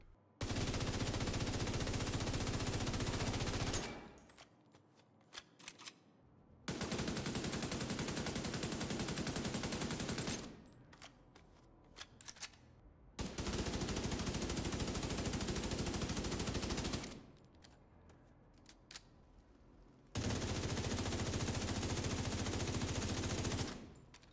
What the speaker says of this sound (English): aiming the gun at the wall in the shooting range and letting it rip without trying to counter the kickback